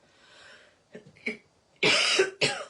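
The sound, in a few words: cough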